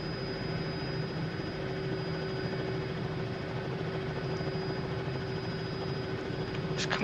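A helicopter in a flight simulator game, flying with a constant droning engine and rotor hum plus a thin steady whine, loud and unbroken throughout, with no voices.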